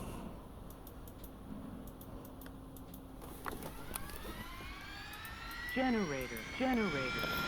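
A jet engine spools up in the DCS flight simulator, a low rumble gaining a rising whine partway through, then warbling warning tones pulse twice near the end.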